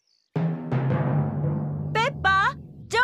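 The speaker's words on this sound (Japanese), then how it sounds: "雷の音よ。" Cartoon thunder in an animated Peppa Pig episode: a sudden loud crash opens into a low, rolling rumble, with a second clap soon after, slowly fading as a high childlike voice briefly speaks.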